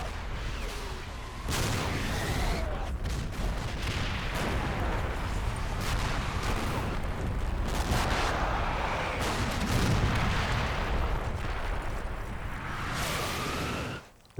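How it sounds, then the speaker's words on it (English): A close artillery barrage pounds away in the Combat Mission game's Operation Epsom battle at the Odon Bridges. Explosions and gunfire overlap into a dense, continuous roar of booms and crackling blasts that stays loud until an abrupt end. "The barrage is close"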